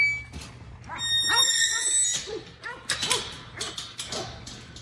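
Young Cane Corso puppies whimper, yip and let out small barks close by in a quick, repeating series, with a high whine rising over the yelps early on.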